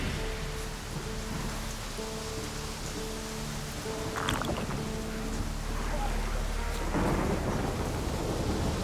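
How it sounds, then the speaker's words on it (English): A thunderstorm rolls through the video game The Witcher 3: Wild Hunt: steady heavy rain hisses throughout while deep thunder rumbles, swelling louder toward the end, with a faint tonal layer underneath. "Storm, damn it."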